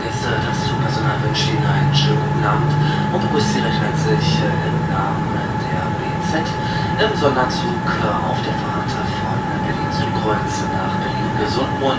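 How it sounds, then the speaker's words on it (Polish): A passenger train pulls out on a Berlin rail line linking the city's north and south, with a steady rumbling hum and tonal whine throughout and a voice speaking over it. "Pociąg wyrusza na szlak łączący północ i południe Berlina."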